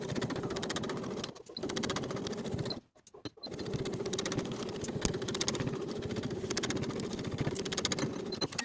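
A sewing machine runs a long basting stitch down a pant seam, its needle clattering in a fast, even rhythm, pausing briefly twice before resuming, close and steady.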